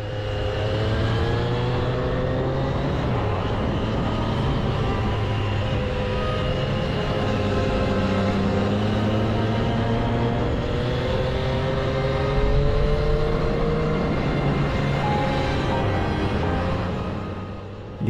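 A motorcycle ridden along small Alpine mountain roads near the Col du Corbier hums with a steady engine drone and wind noise, its pitch rising and falling gently with the throttle throughout, close and continuous, with no talking.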